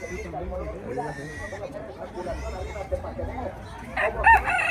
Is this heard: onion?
no